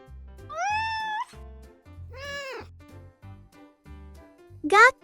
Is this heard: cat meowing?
yes